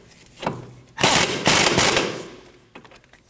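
A power tool spins down the outer tie rod nut on a 2003-2006 Subaru Baja front knuckle, close and loud, in two or three short rattling bursts with brief pauses between them.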